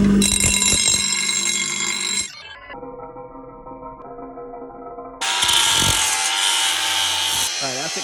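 An angle grinder grinds out old weld on a log splitter being repaired, a loud continuous high whine that drops to a lower hum partway through and then surges back at full intensity.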